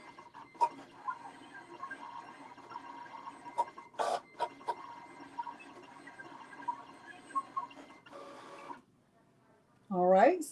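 A Cricut cutting machine works in short whirring and clicking bursts as its motor moves, stopping near the end before a voice speaks briefly.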